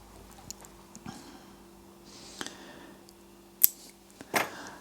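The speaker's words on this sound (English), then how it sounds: "Trim the tag end." Scissors trimming the tag end of fishing line on a Gemini pulley dropper rig, a few quiet close snips and rustles spread out, ending in two sharper louder cuts, no talk.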